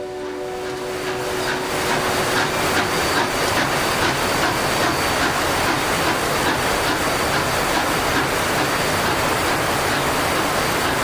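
White Pass and Yukon steam locomotive 73 crossing a river bridge in early evening, a loud steady roar of steam and rolling wheels that builds in the first second and then holds constant, with no talk.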